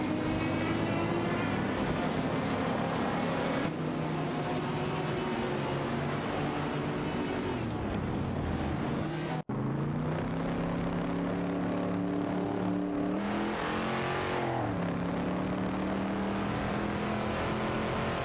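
Racing car engines in a video game, a 1966 Shelby GT350 and a Lamborghini Miura battling for position, drone and rev continuously, with shifting pitch sweeps as they accelerate and change gear, loud and unbroken.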